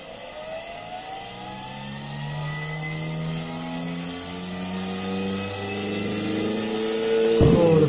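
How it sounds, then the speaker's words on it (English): A 24-volt, 50-watt DC motor whines as it spins up, its tone climbing steadily in pitch and growing louder over several seconds, ending in a brief sharp clatter, with no voices. "this is a 24 volts 50 watts DC motor. Let's try this one and see how much RPM we get here."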